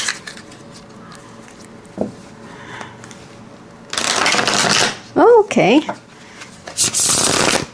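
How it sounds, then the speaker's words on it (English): A tarot deck with a Chinese cuisine theme is riffle-shuffled close up, giving bursts of rapid flapping card noise with pauses between them and a brief bridge-like whirr, while a person talks briefly. "All right, shuffle test."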